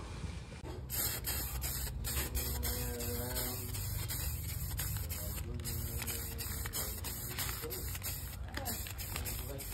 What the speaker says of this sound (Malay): Lepas tu dah boleh spray warna hitam guys